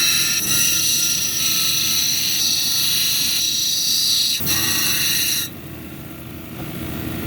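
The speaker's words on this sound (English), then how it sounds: "piece of zebra calcite and we're going to grind it down to the lines here." Zebra calcite cabochon ground on an 80 grit wheel, a loud steady motor whine with gritty rasping that shifts in pitch and eases off toward the end.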